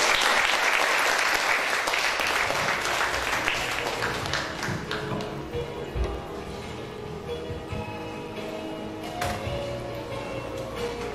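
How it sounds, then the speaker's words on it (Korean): Audience applause at a mentoring concert, a thick burst of clapping that gradually thins and softens over about ten seconds, with scattered individual claps standing out near the end. "다시 한번 큰 박수 부탁드립니다"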